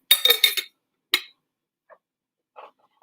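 Pans being moved aside in a kitchen while preparing to cook, giving a quick burst of clinks followed by a few single, lighter knocks in near silence.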